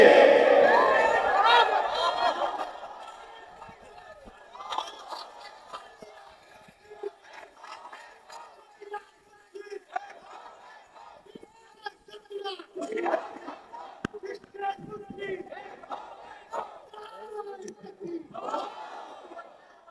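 A crowd at an Islamic religious gathering shouts takbir in a loud collective cry that fades into scattered chatter, with several more swells of voices later.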